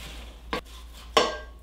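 Two short, sharp clinks of a utensil against a bowl, about half a second apart, as breadcrumbs are mixed into an apple strudel filling; quiet room tone in between.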